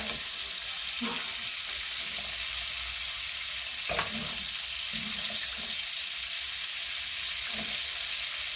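Shrimp fry in hot oil in a pan with a steady, loud hissing sizzle throughout, broken by occasional soft stirring knocks.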